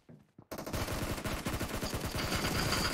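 Shotgun fire in PUBG Mobile: after a brief quiet moment, loud, rapid repeated gunshots erupt and continue densely for several seconds, close and overlapping in a sustained barrage.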